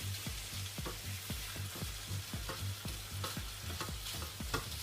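Chinese-style stir fry stirred in a pan over medium heat, a soft continuous sizzle broken by a regular rhythm of scraping spatula strokes, fairly quiet and close.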